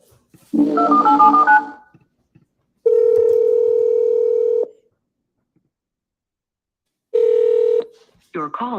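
Telephone placing a call: a short burst of dial tones, then two long steady ringback tones separated by silence, clear and close, with a voice starting at the end.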